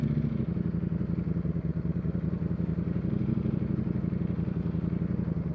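A 2024 Ducati Streetfighter V4S V4 engine idles with its two rear cylinders shut off, a steady, close, lumpy low rumble with rapid even pulses and light mechanical clatter, with no talk.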